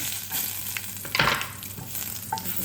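Garlic and fenugreek sizzle in a hot pan, a soft continuous crackle with a brief louder hiss partway through, fairly close and with no talk over it.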